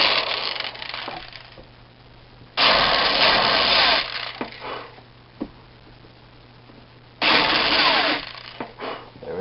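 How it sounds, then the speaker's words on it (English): A power drill drives a screw in two loud, sustained bursts of whining motor and grinding, separated by quieter handling clicks and knocks. "so just lightly press the drill."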